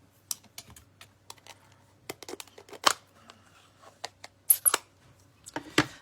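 Scissors snip out stamped paper pieces for a handmade card, a string of sharp, close, separate cuts with short pauses, no talking.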